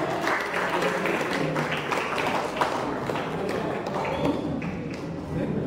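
An audience at an Indian Medical Association installation and awards ceremony gives a welcoming round of applause for a guest, a sustained, even wash of many hands clapping across the hall, with faint voices mixed in.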